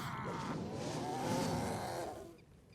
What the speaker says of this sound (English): we see, the dodo bird, the kind of interesting mob they introduced here.